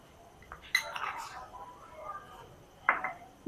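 A spoon stirs powdered milk in a bowl, giving a few distinct metallic clinks and scrapes against quiet background, with what may be a faint voice briefly underneath.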